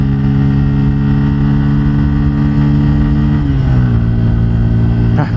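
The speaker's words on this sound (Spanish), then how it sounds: "Como suena de rico esta moto, suena muy rico." A Bajaj Pulsar N160 fuel-injected motorcycle carrying a passenger revs hard while riding, its loud engine note holding steady, then dipping and climbing again with a gear change, with wind rush throughout.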